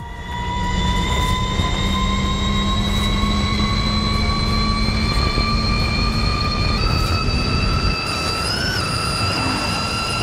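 A high-performance electric car with a swapped battery pack accelerates at about 250 km/h, its motor whine a steady rising tonal hum over loud road and wind roar, continuous and close from inside the cabin.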